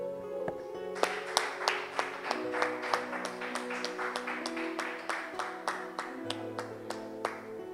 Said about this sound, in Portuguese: E um aplauso ao Senhor.